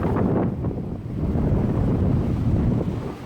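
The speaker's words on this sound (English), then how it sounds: "There's one savage sea." Rough, savage ocean surf breaking on a sandy coast, heard as a steady loud roar of waves with heavy wind buffeting the microphone throughout, no voices.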